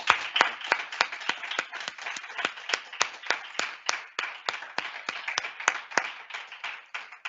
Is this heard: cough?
no